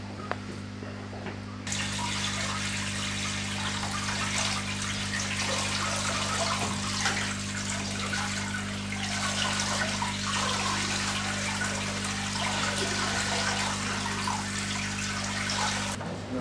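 Water pours steadily into a newly set up aquarium, a continuous close rushing splash that runs almost unchanged throughout over a faint low hum.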